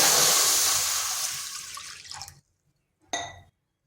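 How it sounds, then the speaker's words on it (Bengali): Water poured into a kadai on the stove: a steady gushing pour that fades over about two seconds, a brief pause, then one short splash, with no voices. "দিয়ে দিচ্ছি জল।"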